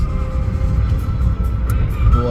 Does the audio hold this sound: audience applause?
no